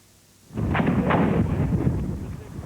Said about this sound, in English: gunfire lit up the night sky as Israeli tanks rolled into a Palestinian-controlled village